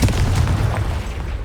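Confringo blasting spell detonating in Hogwarts Legacy on PS5, a single loud, deep booming blast rumbling continuously through the short moment.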